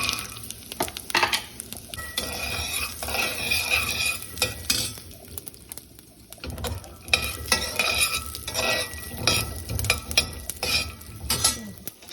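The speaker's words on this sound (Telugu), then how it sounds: "నూనె కాగానే కొన్ని ఆవాలు వేస్తాను. అదేవిధంగా ఓమ కొద్దిగా, మిర్చి, పల్లీలు వేస్తాను" Mustard seeds, ajwain, chillies and peanuts fry in hot oil for a snack of phool makhana, with a steady crackling sizzle under repeated stirring and occasional clinks of a spoon against the pan.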